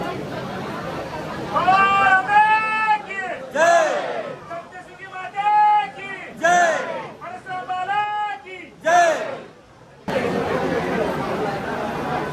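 A dense crowd chatters and calls out at Saptashrungi fort, close voices rising in bursts over steady babble, with a loud burst of crowd noise near the end.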